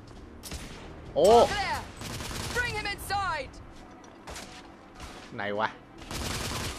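Gunfire rattles in the video game The Order 1886, with bursts of shots and mechanical clatter recurring through the stretch, mixed with game effects while someone speaks briefly over it.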